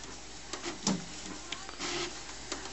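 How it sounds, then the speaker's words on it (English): An HP Photosmart D5160 inkjet printer runs nearby with a steady mechanical whir, broken by short clicks and a few louder whirring surges as the print head and paper feed move. No one talks. "You can see everything's printing perfectly fine."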